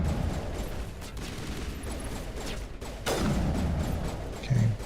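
Geth enemies in the video game Mass Effect fire rocket launchers, producing a dense spread of muffled game gunfire and blasts, with a sharper burst near the end.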